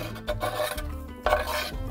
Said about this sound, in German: Dann geht's ab mit Chili und Knoblauch in die Pfanne.